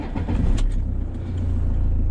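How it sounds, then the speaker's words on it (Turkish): A Fiat Ducato camper van engine runs close by with a low, steady rumble that grows slightly fuller toward the end. "Şimdi arabayı çalıştırıyorum ve yola çıkıyoruz arkadaşlar."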